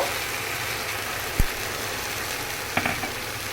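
Jute leaves fry in a pan with a constant close sizzle as lentils go in, marked by a couple of brief knocks and clatters against the pan.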